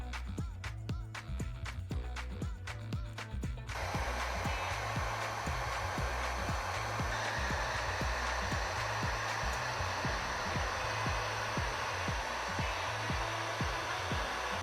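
A heat gun blows with a steady, loud roaring hiss while shrinking heat shrink tubing on a 3-inch FPV drone, starting after a short stretch of rhythmic mechanical ticking and holding constant to the end.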